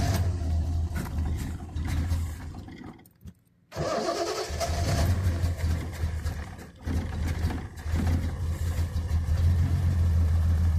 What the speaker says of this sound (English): I'm going to crank it. It spits and sputters, but ooh, it almost.